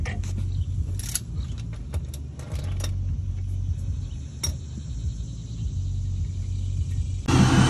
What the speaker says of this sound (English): my truck is finally back up and running